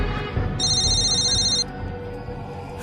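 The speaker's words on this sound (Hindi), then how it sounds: "शायद होटल वाले का फोन है" A phone ringtone chimes for about a second over low background hum, then stops abruptly.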